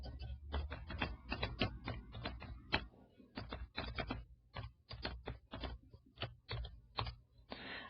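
Steady typing on a computer keyboard, a quick uneven run of soft close keystrokes with brief pauses, quiet and alone.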